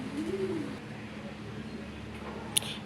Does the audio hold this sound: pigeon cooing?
yes